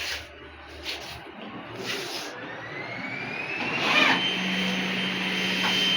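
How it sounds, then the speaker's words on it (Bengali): A CNC copy lathe runs in a factory, a steady machine whine with a rising tonal sweep that settles into a sustained hum, close and fairly loud throughout. "এটা আমাদের একটা কফি লেদ মেশিন। এটা টন কিন্তু কফি লেদ।"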